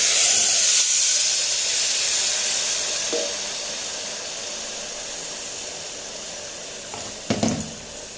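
Marinated rice frying in a hot pot, a loud continuous steamy hiss that slowly fades, then a brief clatter near the end.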